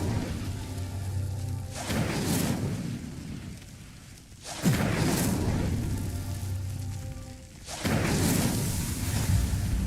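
Repeated fiery bursts of the Incendio spell in Hogwarts Legacy, three loud roaring whooshes with crackling rumble, each separated by a brief dip, no speech over them.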